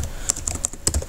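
Rapid typing on a computer keyboard while entering code, with a run of crisp, close keystroke clicks at an uneven rhythm and no talking.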